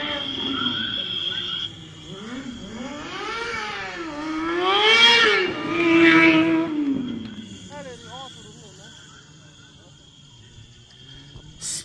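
A stunt motorcycle wheelies on its front wheel at a motor festival in a town square, its engine revving in rising and falling surges under an announcer's amplified voice and background music.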